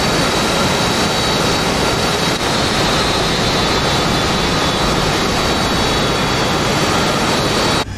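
A jet aircraft takes off in the DCS flight simulator game, its engine roaring loud and continuous with a steady high whine throughout.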